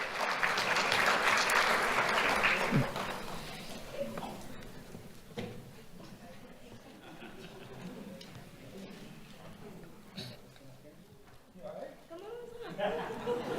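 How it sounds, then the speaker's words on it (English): Audience at a Do The Right Thing Awards ceremony claps for an honored student, applause loud at first for about three seconds, then fading into scattered claps and room murmur with a voice speaking. "Let's have a round of applause for Rudy."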